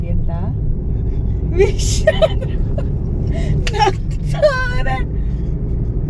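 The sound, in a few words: car driving, heard from inside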